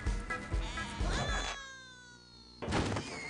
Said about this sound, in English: Comes everyone's favorite farm animal, Shaun the sheep